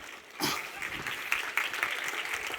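Audience applause at a speakers' showcase event breaks out suddenly after a quiet start, a scattered clatter of claps that carries on moderately loud to the end.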